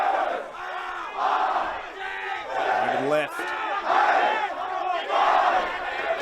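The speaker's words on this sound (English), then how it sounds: "Churchie crowd erupting in the background" Schoolboy crowd at a Churchie rugby match against Gregory Terrace roars and cheers in loud rolling waves throughout, a dense wall of voices with a brief dip midway, while a commentator's voice briefly cuts through.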